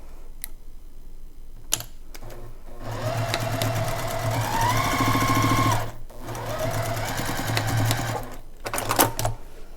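A sewing machine stitching a quilt block runs in a steady rapid whir for several seconds, stops, then runs again in a shorter burst, with a few clicks of handling between, close and loud.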